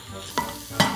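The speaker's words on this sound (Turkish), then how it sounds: "Güzelce kavurun." Minced meat and onions crackle as they fry in a pan, with a couple of quick stirring scrapes over the steady sizzle in one brief burst.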